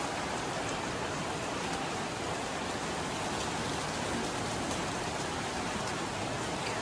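Steady, dense rain pouring down without letup, a constant hiss of drops on surfaces close by, with no voices.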